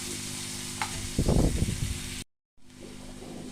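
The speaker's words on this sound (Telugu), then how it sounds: "ఈ ఉల్లిపాయ ఒక 2-3 మినిట్స్ మంచిగా ఫ్రై కానివ్వండి." Finely chopped onion fries in a pan with a steady sizzling hiss, and a stirring scrape swells the sound briefly. The sizzle cuts out for a moment and then resumes, close and moderately loud.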